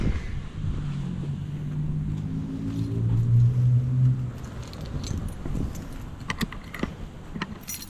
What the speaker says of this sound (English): Comes with this cool Buick Riviera keychain.